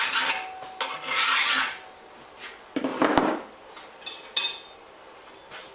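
Rasping and rubbing strokes smoothing the back of a kitchen knife made from a saw blade, in bursts of scraping with pauses and a few light metallic clinks between them, close and fairly quiet.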